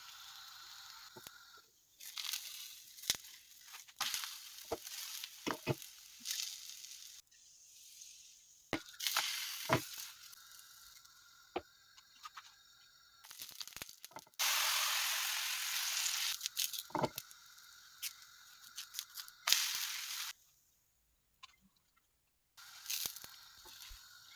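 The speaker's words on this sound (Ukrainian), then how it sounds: "смажимо млинці з двох сторін до золотистого стану" Pumpkin pancakes sizzle and crackle in a hot pan, with bursts of frying hiss rising and falling alongside occasional clinks and scrapes, no voices.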